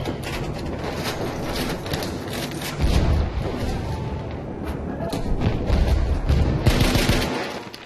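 Rapid bursts of video game gunfire rattle continuously with thumping impacts, loud and dense throughout, with a voice partly mixed underneath.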